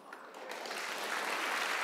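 A church congregation clapping during a worship service, applause starting thin and swelling into a fuller, steady ovation, with no voices over it.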